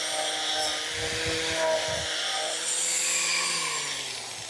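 Electric grinder fitted with a sandpaper disc rounding off a piece of wood during a camper conversion, giving a steady close whirring, abrasive drone with a few low knocks, with no talk.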